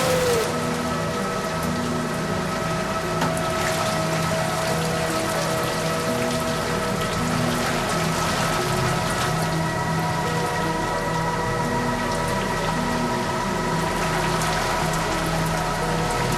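Heavy, unceasing rain pours onto flooded streets in Tashkent, a dense steady hiss with water running, loud and uninterrupted throughout with no voices.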